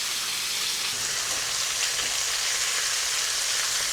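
Jerk pork chops sizzle steadily in a hot pan, a dense continuous frying hiss with faint crackles and no talking.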